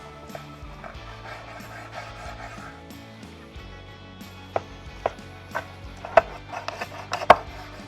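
A knife saws into smoked beef short ribs with soft rubbing strokes, followed by several sharp, distinct clicks as the blade meets the board, close and fairly quiet with no talking.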